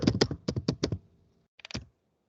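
Keys clatter on a computer keyboard in two close bursts: a rapid run of about seven strokes, a short pause, then three or four more quick taps, with no one speaking.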